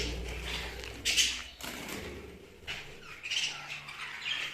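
Pet budgerigars give sharp, scratchy squawks and chirps in short bursts, close by, with quiet pauses between calls.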